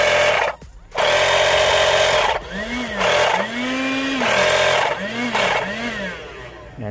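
An Onever 4-in-1 portable car vacuum cleaner runs with a loud, steady motor drone that cuts out briefly near the start, then returns alongside rising and falling whining tones, close to the listener.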